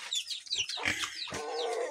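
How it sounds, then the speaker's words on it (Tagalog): Chickens on a small farm cluck and chatter in quick, overlapping calls, fairly close and moderately loud, with no talk over them. "dito sa mga manok natin is ayun, nagpapakain tayo"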